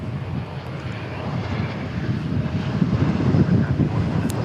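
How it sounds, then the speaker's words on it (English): A Lufthansa Airbus A340 four-engine jet departing from the east side at DFW airport, a deep rumbling engine roar that grows steadily louder over gusty wind. "The A340 departing east side, Lufthansa"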